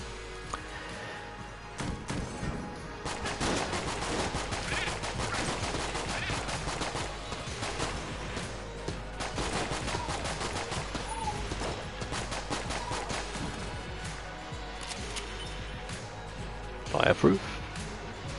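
Makeshift cannon fire in a video game, rendered as a long run of dense, rapid blasts and crashing bursts with one sharp loud report near the end, mixed over constant game noise and some talk.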